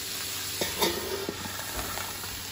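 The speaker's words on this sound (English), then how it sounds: "we're going to let it steam for a while" Steady hissing sizzle of water steaming under a lid on a hot griddle, with a few faint clinks and taps over the constant loud hiss.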